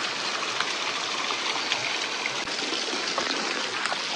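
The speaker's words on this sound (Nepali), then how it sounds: "वाटरफल हेर्नुहोस्" A waterfall on the Lothar Khola stream pours in a loud, steady broadband rush of falling and splashing water, close by, unbroken for the whole stretch with no speech.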